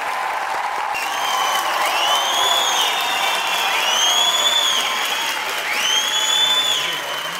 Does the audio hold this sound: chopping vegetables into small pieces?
no